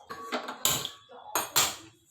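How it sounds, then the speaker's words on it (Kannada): A metal vessel set down on a stove for tempering, giving two separate sharp clanks with a short metallic ring, close by and fairly loud. "ಒಂದು ಪಾತ್ರೆ ಇಡ್ತೀನಿ ಒಗ್ಗರಣೆಗೆ."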